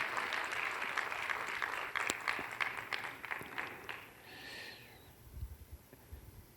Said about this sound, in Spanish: Y le va a aplaudir a ese Dios grande y maravilloso, hágalo con fuerza, con ánimo, con entusiasmo esta noche